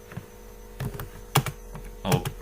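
Scattered keystrokes on a computer keyboard while Java code is typed, a few isolated clicks then a quick cluster, close and quiet over a steady electrical hum.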